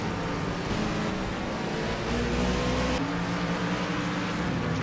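A race car at Road America, in an IMRS road-course race, roars steadily in a high gear, its engine drone blending with dense wind and track noise.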